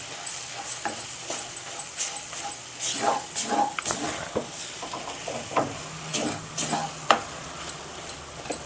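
Ponnaganti leaf and moong dal curry being stirred in a pan, with repeated scraping strokes of a spoon and a light sizzle running underneath at close range.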